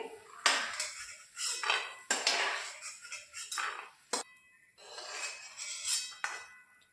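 Roasted peanuts scraped and scooped from a pan onto a plate, a series of metallic scrapes and clinks in bursts with short pauses, close and clear with no talking.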